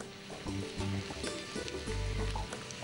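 Food frying in a pan with cinnamon being added, a soft continuous sizzle close by, with low hums and light stirring knocks scattered through it.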